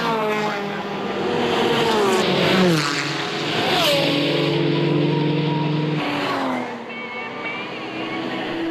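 Race cars at full racing speed on the Nürburgring during a Gran Turismo 5 24-hour race, engines screaming and shifting pitch as they pass and accelerate, loud and continuous for several seconds.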